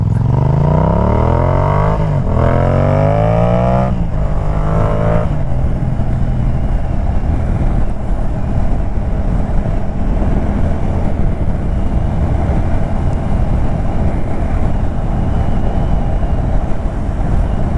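A Yamaha MT-07 motorcycle pulls out and accelerates hard, its engine note climbing through several rising sweeps with gear changes, then settling into a loud, steady roar with heavy wind rush for the rest of the ride.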